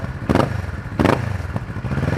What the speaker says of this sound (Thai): แต่คันนี้จะคงเป็นท่อเดิมนะครับมาฟังเสียงท่อกันหน่อย